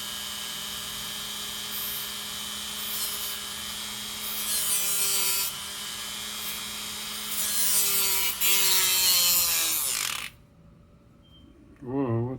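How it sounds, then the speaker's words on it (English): A grinder with a cutoff wheel whines and bites into a Pixel 4 XL phone case, cutting a cross-hatch pattern in rasping passes that grow louder, then spins down abruptly as a voice briefly speaks at the end. "Now this is definitely going to do something because it's a cutoff wheel."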